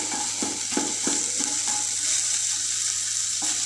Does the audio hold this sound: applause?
no